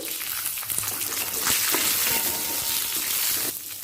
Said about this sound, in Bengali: আমি কাজু আর চিনে বাদামটা দিয়ে দিচ্ছি